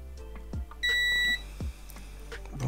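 Multimeter testing a diode on a JVC LT-55HW77U television power board, giving one clear sustained electronic beep amid faint clicks of the probes, with no talk.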